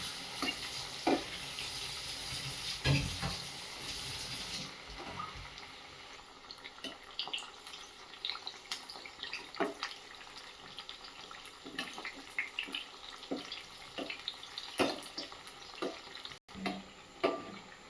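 Vadi pieces fry in oil over a low gas flame, a steady close sizzle with occasional crackles and spatters, louder at first and then settling into a softer bubbling hiss.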